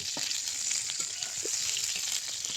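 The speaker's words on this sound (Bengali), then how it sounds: "তো এবারে আমি বেগুনগুলোকে ভেজে নিচ্ছি।" Eggplant pieces frying in hot oil, producing a steady quiet sizzle with occasional soft pops and light stirring sounds.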